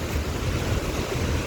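Floodwater rushes through a single opened gate of Thengo Dam in Sonpur, Odisha, after heavy rain, a loud, continuous broadband roar with no pauses.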